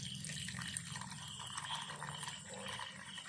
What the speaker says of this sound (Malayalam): അതേപോലെ അടുത്തേലും ഒഴിച്ചു കൊടുക്കാം.